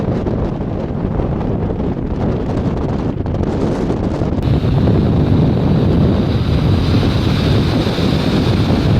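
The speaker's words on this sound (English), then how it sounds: "Here it is, the Arctic Ocean, right behind me." Steady Arctic Ocean surf rolls in at Barrow, Alaska, with heavy wind buffeting the microphone in a constant close roar that grows slightly louder midway.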